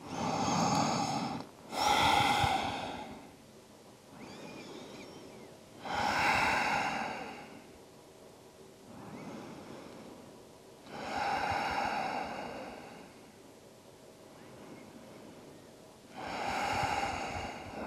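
Slow, deep breathing during a gentle vinyasa yoga forward fold, with several long audible inhales and exhales spaced a few seconds apart, close and soft, without talk.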